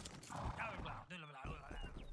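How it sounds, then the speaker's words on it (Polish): A police horse in the video game Rustler clops along with rhythmic hoofbeats and a brief harmonic whinny midway, heard close amid other game sounds. "O ty, policyjny koń."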